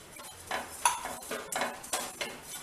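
Desiccated coconut being stirred and turned in a pan for a mango laddu, with a spoon scraping and clinking against the metal in irregular strokes, close and fairly quiet.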